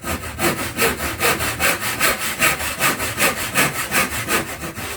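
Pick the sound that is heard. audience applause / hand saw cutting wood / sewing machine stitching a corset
hand saw cutting wood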